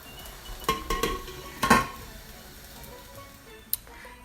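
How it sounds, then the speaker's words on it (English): A spoon stirs curry goat in a cooking pot, giving several scraping clinks against the metal in a short cluster, then quiet simmering and one last sharp tap. "I'm just gonna stir it up"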